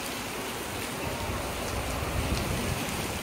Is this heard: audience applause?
no